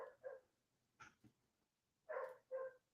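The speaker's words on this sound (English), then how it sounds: "Now we have the dogs barking in the background" Dogs bark in the background, faint and distant: two double barks separated by a couple of softer yips, with quiet gaps between them.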